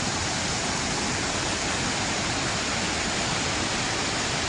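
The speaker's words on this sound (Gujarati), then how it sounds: "ચોમાસાના સમયમાં પોતાની પૂર્ણ ક્ષમતાએ વહેતો આ ધોધ" The Jamjir waterfall roars at full monsoon flow, a continuous, loud, even rush of water that fills the whole space without pause.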